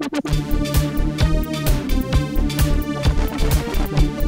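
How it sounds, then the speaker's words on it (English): Synth bass patch from a free Phuturetone plug-in with an LFO sweeping the filter under mod-wheel control, plus reverb, playing a steady rhythmic pulsing pattern, loud and continuous with no talk. "LFO modulation set up on the filter using the mod wheel"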